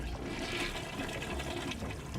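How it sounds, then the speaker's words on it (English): A toilet flushes in a bathroom, a continuous rushing gush of water heard from some distance, steady and unbroken throughout. "I listened as the sound of the toilet being flushed was heard."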